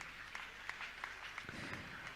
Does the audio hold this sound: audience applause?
yes